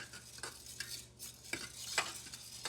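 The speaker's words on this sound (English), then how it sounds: "Stir, bring it to a boil." Spoon scraping and stirring rice in a pot, in short, irregular strokes with soft clinks between them, close and fairly quiet, no voices.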